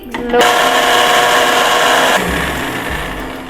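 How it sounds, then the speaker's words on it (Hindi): A blender grinding dried henna leaves into powder whirs loudly for a couple of seconds, then cuts off and winds down, with a brief voice at the start. "इसको ब्लेंडर में डाल के मैं ब्लेंड करूँगी"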